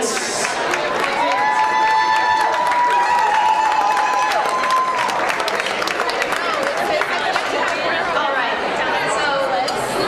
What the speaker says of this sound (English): a huge round of applause for Cynthia Nordskog and the SRCAR Institute graduates